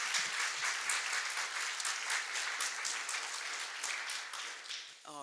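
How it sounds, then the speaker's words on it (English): An audience at a banned-books literary event gives a sustained round of applause, a dense even wash of many hands clapping that holds steady for several seconds before starting to fade. "Please give a round of applause."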